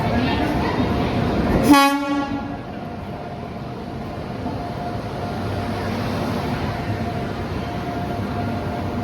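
The Ringus Express pulls into a station, its horn blaring once loudly and briefly near the start, followed by the continuous rumble and clatter of the moving train.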